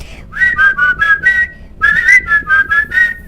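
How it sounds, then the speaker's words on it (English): Someone whistles a short melodic tune in two phrases, clear and close, with no other sounds. "I can whistle all the time."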